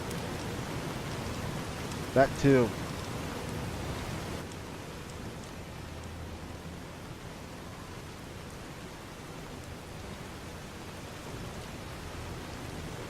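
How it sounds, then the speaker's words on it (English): Loud, steady rain in Fallout New Vegas, a continuous dense hiss throughout with a brief exclamation from a voice partway through. "And of course it's raining again. And of course it's very loud."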